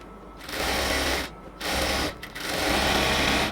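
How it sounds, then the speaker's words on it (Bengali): Sewing machine stitching luxury cotton palazzo ladies' pants, running in steady loud bursts with two brief pauses between runs, no talking. "প্রথমে লক সেলাই দিয়ে নিব, এরপর উপরের দিকে আস্তে আস্তে ধরে ধরে যাতে কোনো রকম কোনো সমস্যা না হয় ধরে এরপর আস্তে আস্তে উপরের দিকে সেলাই করে আসব"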